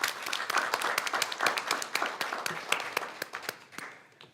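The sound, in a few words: audience applause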